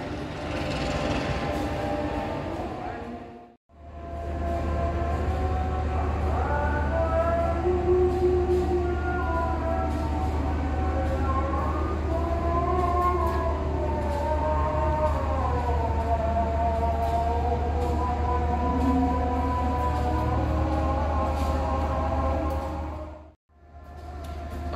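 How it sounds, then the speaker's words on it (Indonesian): Kutojaya Selatan train pulling into Kiaracondong station, a loud steady low rumble with sustained horn-like tonal wails drifting up and down over about twenty seconds, cutting off abruptly at both ends. "Rangkaian kereta api Kuto Jaya Selatan sudah sampai di stasiun Kiara Condong."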